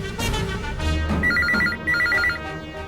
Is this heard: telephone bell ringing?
yes